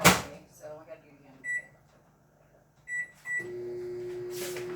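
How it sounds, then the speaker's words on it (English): A microwave oven melting butter hums steadily at close range, with a few short beeps and a cupboard door clunk before the run settles into a continuous drone; a person speaks briefly near the start. "I just melted some butter in the microwave."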